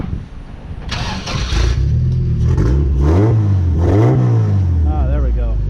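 A car engine with old, bad gas in the tank cranks, catches and revs loudly in uneven surges before settling into a rough run, with someone talking over it.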